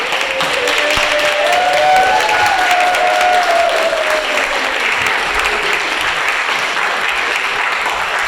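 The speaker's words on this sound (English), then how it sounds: "deserves a big round of applause" Sustained applause from an audience at a Windham town meeting, dense steady clapping filling the room for the whole stretch with faint voices underneath.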